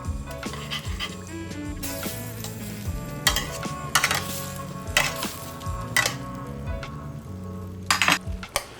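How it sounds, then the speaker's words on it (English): Salisbury steak patties simmer in sauce with a steady bubbling sizzle beneath background music, with a few louder clattering bursts along the way. "my sauce is simmering"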